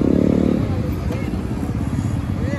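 A motorcycle doing a burnout stunt at an outdoor Diwali stunt show, its engine droning steadily and close, with people talking loudly over it throughout.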